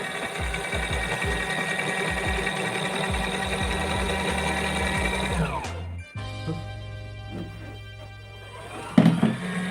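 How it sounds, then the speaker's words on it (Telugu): A small portable washing machine runs with a steady motor whir and rhythmic churning, then abruptly switches direction partway through, leaving a lower hum with a few knocks and clatters near the end. "ఓ వాషింగ్ మిషన్ ఆన్ అయింది ఫ్రెండ్స్."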